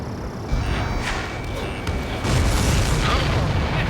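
An enemy transport blowing up in the flight game Ace Combat 7, a deep roaring boom that swells over continuous jet and battle rumble, with radio chatter faintly underneath.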